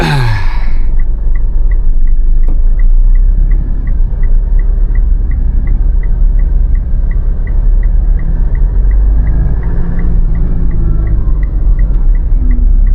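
Manual transmission car reversing slowly during a driving lesson, a steady close engine rumble and drone running throughout with a faint regular ticking like an indicator, no talk.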